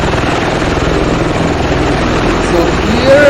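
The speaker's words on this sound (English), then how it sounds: "let's actually look at this osprey, which can transition between kind of a helicopter mode and a propeller like an airplane" Rotors of a V-22 Osprey tiltrotor aircraft, a loud, steady, throbbing drone that fills the whole stretch with a rhythmic low pulse and no break.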